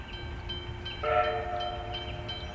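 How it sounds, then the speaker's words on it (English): Locomotive number 945 hauls a tourist train through light woodland, a steady rumble under a sustained horn or whistle tone that swells in partway, heard from a moderate distance. "After leaving Dwellingup, number 945 will take its train through a section of light woodland towards a location known as Marinup"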